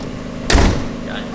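A single loud thud of a door being shut, close by, with a low-frequency thump that fades quickly into background noise.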